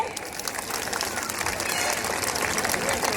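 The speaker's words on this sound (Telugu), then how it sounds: "క్లాప్స్ కొట్టరా దానికి" Students applauding at a school function in a hall, a broad wash of many hands clapping together, fairly distant and steady, swelling slightly toward the end with crowd murmur underneath.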